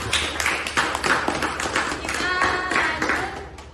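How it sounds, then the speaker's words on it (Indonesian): A group of people clapping for a second presentation group in a classroom or meeting, a short burst of brisk, fairly close hand claps lasting a few seconds. "Beri aplaus untuk kelompok kedua."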